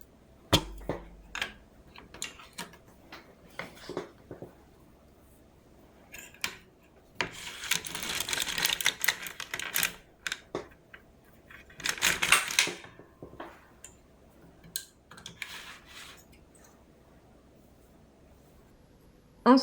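An LK150 knitting machine knits a row with nylon yarn, the carriage sliding and clacking across the needle bed in bursts of rattling mechanical clatter, separated by quieter pauses.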